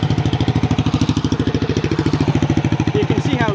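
A racing lawn mower's small engine runs close by on a test ride, a loud, rapid, evenly pulsing chug that keeps steady, then briefly shifts pitch near the end.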